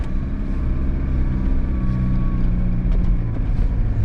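A car engine idles steadily inside the cabin while the heater fan blows, a constant low rumble with a breathy whoosh of air over it and no talk.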